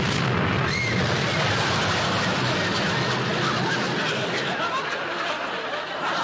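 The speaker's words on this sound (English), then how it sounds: "Tommy, I thought you said you defused that bomb." A bomb explosion sound effect in a classic television comedy sketch, a loud, sustained noisy blast that rumbles on for several seconds, with crowd chatter mixed in.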